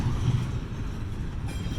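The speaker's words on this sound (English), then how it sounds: "I love double crate trains." Double-stack container freight train pulled by two engines rolls past close by, a loud low rumble of rail cars with wheel clatter throughout the brief moment.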